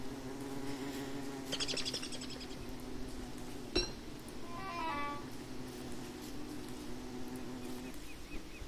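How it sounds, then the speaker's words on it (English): Bees buzz in the video game Don't Starve, a soft steady drone with faint clinks and brief chirping tones sprinkled over it, quiet throughout. "Oh, those are bees."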